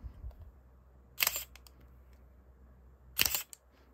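An old Digic 2 DSLR camera fires its shutter twice about two seconds apart, each a close, crisp mechanical clack with a brief whirring tail, over near silence and with no talking.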